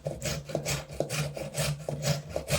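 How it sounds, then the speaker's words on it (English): Carrots grated by hand for a beetroot salad, a steady back-and-forth rasping stroke repeating about twice a second, close and scratchy with no voices. "And now Dedushka grates carrots"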